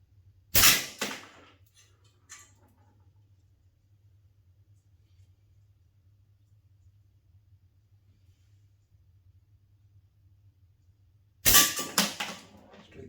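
A slingshot fires at cans indoors on a rainy day: two sharp, loud cracks about eleven seconds apart, each with a brief rattling tail, and a faint low hum in between.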